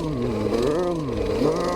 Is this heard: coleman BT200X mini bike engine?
yes